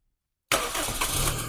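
After silence, a repaired car engine cranks and catches in a single quick start, then settles into a steady close idle with a broad rumbling hum.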